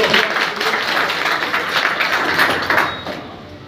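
Crowd applause greets Gulabsinh, the new Banaskantha district Congress president, at a party gathering in Gujarat: dense, sustained clapping from many hands that holds steady, then fades out at the end.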